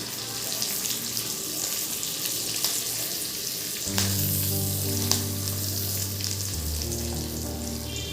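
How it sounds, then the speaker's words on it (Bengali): Stuffed capsicums fry in a pan with a steady, close sizzle and faint bubbling throughout, while background music begins partway through. "এবার আমি গাগুলো একটু ফ্রাই করে নেব।"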